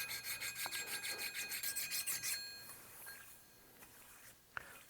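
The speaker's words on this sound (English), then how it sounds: "I'm just going to take a flat file. Again, just making sure there's no burrs" Flat hand file deburring a metal surface on a GM 12-bolt rear differential, a close steady rhythmic rasping of repeated strokes for about two seconds, then fading to quiet handling with a faint clink near the end.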